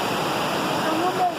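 Water rushes in a steady, dense roar at the overflowing Cerro Azul dam in Bonito, Pernambuco, a close, continuous wash with no breaks.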